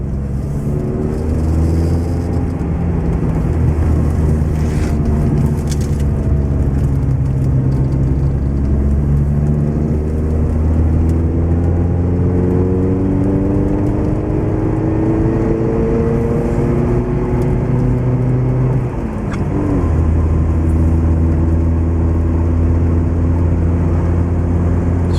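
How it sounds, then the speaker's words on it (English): A car engine over-revving, with a steady loud drone and rising and falling engine tones for about twenty-five seconds, heard from inside the vehicle, with a brief dip near the end. "I'm over revving there."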